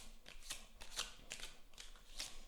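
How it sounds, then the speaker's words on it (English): Tarot cards are shuffled sideways by hand at close range, a run of crisp riffling rustles coming in several quick bursts with short pauses between them, with no one speaking. "Well, I think I have to shuffle them sideways."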